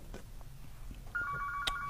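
A telephone starts ringing partway through with a steady electronic trilling tone, clear and moderately loud over a quiet indoor background.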